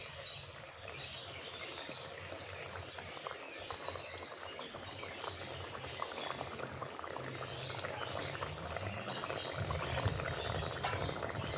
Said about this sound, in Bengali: এবার তাতে আমরা মাছগুলো দিয়ে দেব।